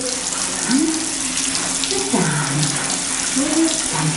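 Tap water runs steadily into a sink as kindergarten children wash their hands, a continuous close splashing rush with a voice speaking over it.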